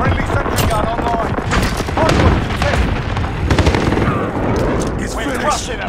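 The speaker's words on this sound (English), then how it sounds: "Friendly sentry gun online." Automatic gunfire from a sentry gun in the video game Modern Warfare, dense and continuous with booms and other battle noise, loud throughout under voices talking.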